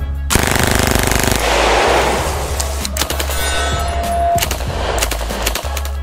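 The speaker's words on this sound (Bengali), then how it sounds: "মিনিটে এই রাইফেলটি 600 থেকে 700 রাউন্ড গুলি ছুড়তে পারে" Automatic rifle gunfire in long, rapid sustained bursts, loud and close, with dense repeated reports and some echo, no talking.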